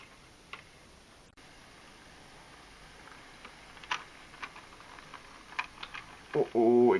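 A model train rattles over a point on a small indoor layout, giving faint scattered clicks and ticks in a quiet room, ending in a louder clatter.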